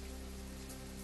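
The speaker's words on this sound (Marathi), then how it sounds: "नाशिकच्या मनमाडमध्ये मुसळधार पाऊस" Heavy monsoon rain pours steadily in Manmad, Nashik district, a dense, unbroken hiss of downpour striking surfaces with no voices.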